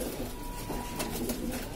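Madrasi pigeons cooing in a loft, low soft murmuring coos running steadily through the moment at moderate distance, with no talk over them.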